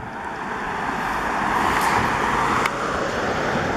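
Cars pass steadily along the small main street of Martin, Georgia, a broad rushing traffic noise that swells as a vehicle goes by close, with no talking.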